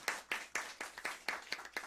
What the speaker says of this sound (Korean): 우리 박수 한번 해주십시오.